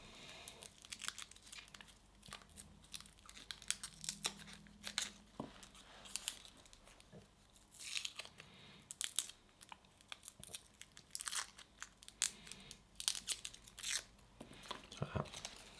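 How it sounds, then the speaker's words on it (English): Garlic cloves get crushed under the back of a knife on a board, giving irregular crunches and cracking snaps with papery skin crinkling, close and fairly quiet. "I find it easier to crush the garlic using the back of the knife, and it should just break out"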